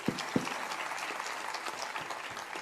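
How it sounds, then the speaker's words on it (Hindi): Audience applause at a spiritual discourse, steady clapping throughout with a couple of sharp louder claps at the start, fairly close and continuous. "भले आप लोग तालियां बजा रहे हो"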